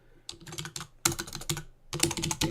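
Computer keyboard clicking as HTML code is typed, three quick bursts of crisp, close keystrokes separated by short pauses, with no voice over them.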